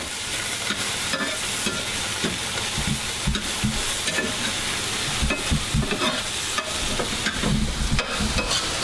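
Onions and garlic sautéing in a hot pan for a muscle meatloaf, with a steady loud sizzle and repeated scraping stir strokes all the way through, close up and with no talking.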